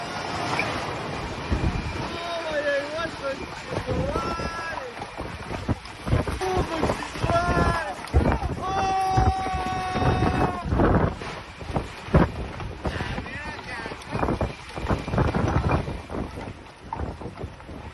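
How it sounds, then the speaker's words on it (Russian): Strong storm winds gust in Chile, a loud, continuous roar of wind buffeting the microphone, rising and falling in surges throughout, with faint tonal sounds and muffled voices mixed in. "В Чили вчера продолжил бушевать сильный шторм."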